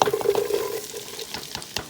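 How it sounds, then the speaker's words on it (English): Chopped onions sizzle in hot olive oil in a pan while eggplant parmigiana is being made, giving a steady close frying crackle with a few stirring scrapes. "Now we're getting the sizzle."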